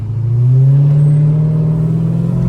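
A Dodge Charger SRT8 drives through Dallas, its engine giving a loud, steady low droning hum that rises in pitch slightly as it accelerates, heard from inside the car with no talking.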